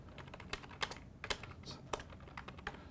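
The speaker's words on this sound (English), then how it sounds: "I can use the keyboard normally" Typing on a computer keyboard, with clusters of close, crisp key clicks arriving in uneven bursts and brief pauses between them, heard alone without any talking.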